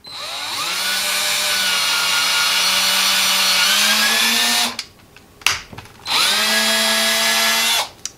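A power drill whines steadily at high speed through pipe, winds down, briefly stops with some clatter, then spins up again loudly before stopping.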